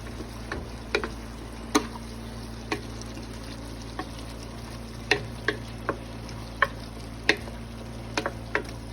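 Beef taco meat with garlic powder stirred in a frying pan: a low steady sizzle broken by scattered sharp scrapes and taps of the utensil against the pan.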